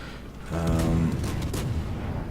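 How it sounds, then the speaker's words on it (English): Naval guns fire at a burning Kongo battleship in World of Warships, a heavy booming salvo with a deep rumbling tail, followed by fainter distant thuds. "I'm gonna put some shots on this Congo, who is burning"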